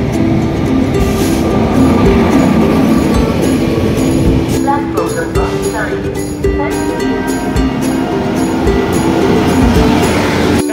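Train noise at Lucknow's Charbagh railway station during rain: a steady rumble of rail cars and wheels on track, loud and continuous throughout, with a busy platform bustle in the background.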